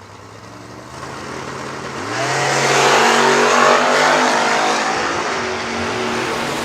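First-generation Chevrolet Camaro launching at a drag strip, engine revving loudly and surging to full power over a couple of seconds, with a steady roar and faint tire squeal fading slightly afterward.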